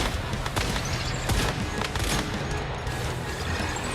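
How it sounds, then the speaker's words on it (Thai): Gunfire in the video game Once Human rattles in dense, overlapping bursts, loud and continuous throughout with no talking. "ผมต้องใช้ปืนเบายิงเพื่อที่จะให้มันชิ่ง"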